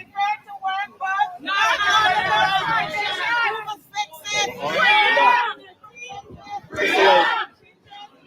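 Crowd of striking teachers gathering at a protest, a murmur of many voices with bursts of louder chatter rising and falling over several seconds, heard fairly close.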